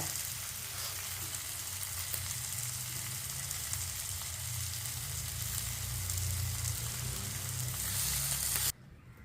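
Masala sautéing in a pan for Tamil-style ivy gourd (kovakkai) thokku, a steady dense sizzle with occasional stirring, close and continuous until it drops away sharply near the end.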